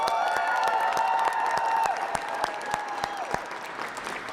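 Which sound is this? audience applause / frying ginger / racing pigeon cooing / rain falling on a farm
audience applause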